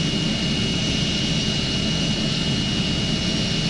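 Airplane engine in Airplane Flight Simulator Evo on PS5 Pro, a steady loud jet roar with a constant whine, unbroken throughout and with no voices.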